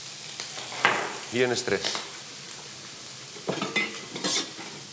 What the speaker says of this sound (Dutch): En gewoon op zijn gemak laten bakken.